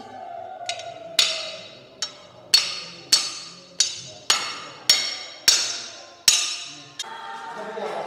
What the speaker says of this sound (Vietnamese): Lấy cái búa to mà đóng chế đi.